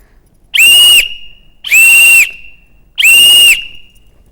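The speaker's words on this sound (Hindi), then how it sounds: "सीटी की आवाज़" A whistle is blown three times in short, loud, shrill blasts of about half a second each, evenly spaced with brief silences between them and no speech.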